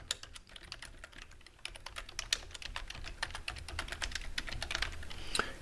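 Fingers type quickly on a computer keyboard, a rapid, close, irregular patter of key clicks that runs throughout, entering admin account details for a self-hosted helpdesk setup, with no talking.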